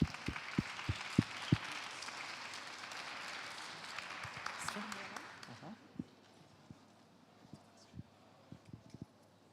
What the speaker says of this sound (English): So let's give a great round of applause.